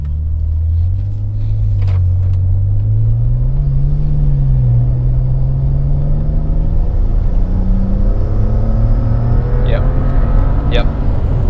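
A BMW 335i with the N54 engine and a hybrid turbo accelerates hard on its first drive, its loud exhaust note rising steadily in pitch as it revs up from inside the car, with a brief voice near the end.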